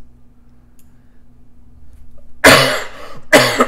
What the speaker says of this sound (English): Excuse me while I do the COVID cough.